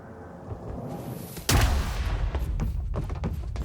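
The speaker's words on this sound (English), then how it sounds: "Smart place to aim the cannon, guys." A cannon fires in the video game Quantum Break with a single loud, heavy boom that rings out and rumbles under a steady ambient background.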